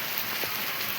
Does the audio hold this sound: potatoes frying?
no